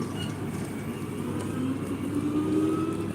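A car drives by close on a street, its engine giving a steady, moderately loud rumble that swells slightly toward the end, with no talking.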